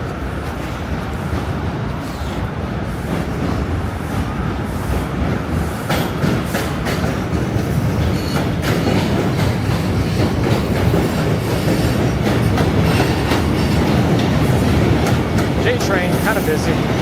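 A New York City J subway train rumbles along the tracks with constant rattling and clacking, loud and close, with occasional squeaks building through the ride.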